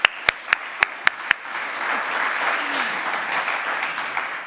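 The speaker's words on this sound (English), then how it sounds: "I want another big round of applause, Bula Blas, for the panellists, please." Audience applause for a panel of organic dairy farmers at a conference, opening with several sharp individual claps before swelling into sustained, dense clapping from a roomful of people.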